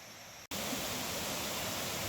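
A rushing waterfall on a mountain foraging trip. After a brief cut, it becomes a continuous, loud, broadband roar of falling water with no voices.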